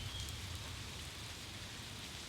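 Rain driven sideways by 60 to 70 mph winds patters steadily against a window, a faint continuous hiss heard from indoors.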